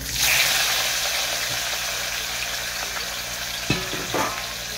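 Chopped onion and tomato hit hot oil in a wok with a strong burst of sizzling that settles into steady frying, broken by a sharp clank of a utensil near the end.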